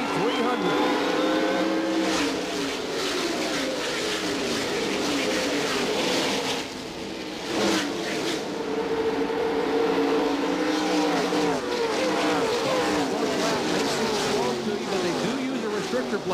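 Race cars roar and accelerate at the green-flag start of the 1998 Touchstone Energy 300, with a dense, continuous engine howl and rising pitch sweeps as the pack passes, and commentary running underneath.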